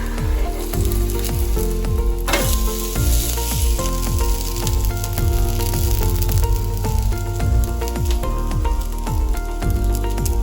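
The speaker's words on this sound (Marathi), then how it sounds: "आता आपण आपली आंबोळी परतून घेऊयात" Masala amboli, an instant rice pancake, sizzles steadily on a hot tawa, a loud continuous crackle that runs without pause and with no voices.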